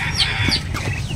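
A chick peeps in short, shrill chirps, close and fairly loud over a low background hum on a small farm.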